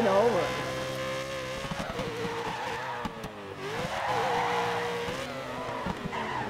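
A race car drifts in the rally game DiRT 3, its engine droning and shifting pitch as the tires squeal and skid through a long slide, with voices talking excitedly over it.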